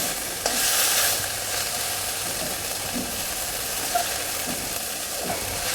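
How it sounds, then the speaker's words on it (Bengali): Dried fish (shutki) fries with spices in oil, giving a steady, fairly quiet sizzle. Occasional soft clicks and scrapes of stirring are heard, with a brief louder burst of hiss near the start. "আমি ভেজে নিচ্ছি যতক্ষণ না অব্দি তেলটা ছেড়ে দিচ্ছি"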